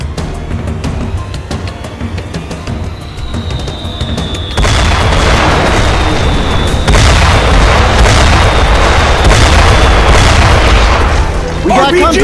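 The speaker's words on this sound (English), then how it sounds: "Mortar fire! Incoming!" Incoming mortar fire in the war video game Modern Combat: Sandstorm, loud booming explosions that swell into a continuous heavy rumble of blasts and gunfire, with a voice shouting over the battle.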